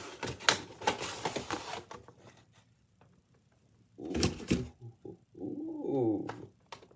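Cardboard and plastic packaging of an S.H. MonsterArts Godzilla figure is pulled open, with crinkling, tearing rustles in two close bursts separated by a quiet gap, then a soft vocal reaction.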